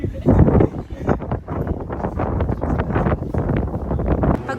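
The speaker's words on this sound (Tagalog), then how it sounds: "Grabe ang hangin dito" Strong wind buffets the microphone on an open-topped rooftop observation deck at Seoul Sky in winter, a loud continuous rumbling roar with gusts throughout.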